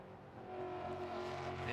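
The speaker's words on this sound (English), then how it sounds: "Coyote V8 engine sounding wonderful through the trees in that flat out blast" A Ford Mustang race car with a Coyote V8 engine blasts flat out through a wooded road course, its engine note a steady, distant drone that swells slightly louder toward the end.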